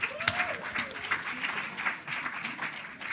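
At a leadership summit conference, an audience bursts into brief, lively applause for the tech crew, with many hands clapping together and a few voices mixed in.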